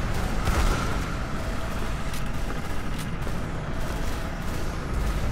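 Sustained gunfire rattles through a firefight in the shooter game SiN Episodes: Emergence, dense and steady with scattered sharper reports over a constant loud rumble, no voices.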